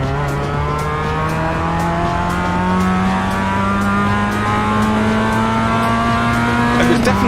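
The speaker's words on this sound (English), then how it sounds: "I can barely hear you, James, over the car." Race car engine in the iRacing simulator drones loud and continuous, its pitch rising slowly as the car accelerates, with faint tyre noise and a quiet voice under it.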